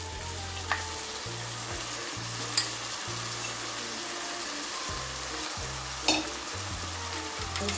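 Green moong sprouts frying with tomatoes in a pan, a steady dense sizzle throughout with a few light knocks of stirring, no talk.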